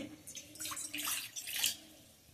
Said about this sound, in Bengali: আমি প্রথমে কড়াইতে 1 বাটি পানি দিয়ে দিচ্ছি